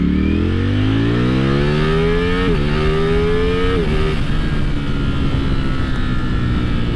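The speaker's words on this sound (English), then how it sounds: "I'm on a naked bike right now" Naked motorcycle engine under way while riding, a loud continuous drone rising in pitch with two quick gear-shift drops, then settling into steady engine noise and wind rush.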